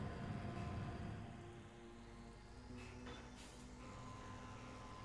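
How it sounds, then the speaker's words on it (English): Steady rain patters and plinks off the helmet of Samus in the video game Metroid Prime, a dense, continuous wash with a low rumbling bed and faint tonal hums underneath. "You can see all the little rain plinking off the helmet."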